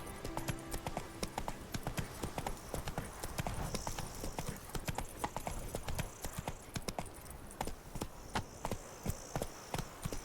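Horse hooves galloping at a steady, rapid rhythm in The Witcher 3: Blood and Wine, loud and close with continuous clip-clop beats throughout, joined by faint ambient game background.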